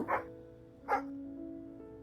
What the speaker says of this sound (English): Proper woof going on there